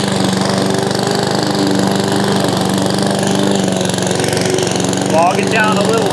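An inexpensive Amazon Smartpower lawn mower, pushed by hand with its drive motor off, cuts thick overgrown grass with a steady, close engine drone. A voice speaks briefly near the end.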